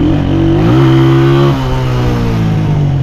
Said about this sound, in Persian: ببینید صدای اگزوزو هم معلومه